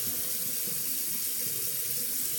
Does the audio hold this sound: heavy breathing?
no